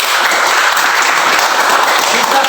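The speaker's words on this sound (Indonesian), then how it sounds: "mari kita berikan tepuk tangan aplaus untuk kita semua." Audience applause from a teacher-training class session, dense and steady clapping filling the room at full strength throughout, with no voices standing out.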